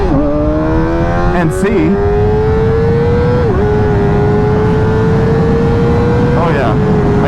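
A Kawasaki ZX4RR motorcycle with a Graves exhaust and its restriction removed revs loudly and close. The engine pitch climbs in long sweeps and drops sharply at each shift, and someone talks briefly over it.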